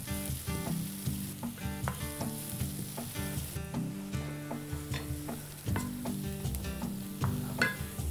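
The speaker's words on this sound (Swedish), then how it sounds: "nu ska det här bara fräsa någon minut" Steady loud sizzling of pork fillet frying in a pan, with occasional scraping and stirring clatter on top.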